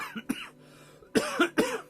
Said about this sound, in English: Not that, obviously, because that's a cough.